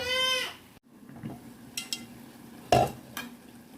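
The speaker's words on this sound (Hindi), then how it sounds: "अब यहाँ मेरी भिंडी बिल्कुल अच्छे से फ्राई हो चुकी है। अब मैं इसी के अंदर टमाटर ऐड कर रही हूँ।" Okra and tomatoes cooking in a pan, with a soft background sizzle broken by several short clattering stirs and scrapes; a brief tonal hum opens it, then a moment of silence.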